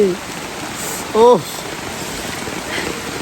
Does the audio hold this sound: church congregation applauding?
no